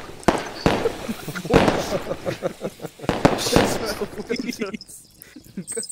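Fireworks pop and burst in the VR game A Township Tale, several sharp cracks scattered over a few seconds while people talk and laugh throughout.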